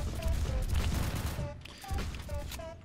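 Rapid gunfire bursts in the Roblox shooter Phantom Forces, with an M1911 pistol and a .50 conversion in play, crackling in quick succession throughout, loud and busy with short gaps and a few brief tones over the shots.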